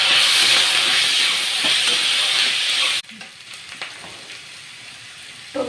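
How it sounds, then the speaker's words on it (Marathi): Moth beans (matki) sautéing in a hot pan with curry leaves, a loud steady sizzle for about three seconds that suddenly drops to faint crackling and small stirring clicks, with no talk. "मटकी पण आपण परतून घेऊया."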